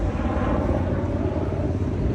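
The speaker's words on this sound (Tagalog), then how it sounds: "Sorry about the noise. That's the helicopter here in Vancouver." A helicopter flying over Stanley Park in Vancouver, a loud steady broadband rumble and whir filling the air with no talking.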